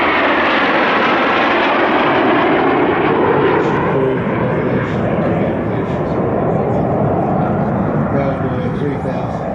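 A military jet with a 3,140-pound-thrust engine roars loud and steady overhead at the Warbirds Over Wanaka air show, while a commentator talks over the noise.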